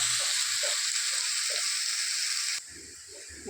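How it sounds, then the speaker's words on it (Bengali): Soybean chunks sizzling in a pan of cooked-down spices for a curry, a loud, close, continuous hiss with soft stirring, dropping suddenly to a quieter sizzle near the end. "সোয়াবিন দিয়ে কষাচ্ছি।"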